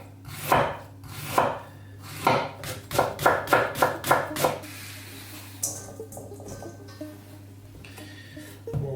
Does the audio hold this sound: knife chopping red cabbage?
yes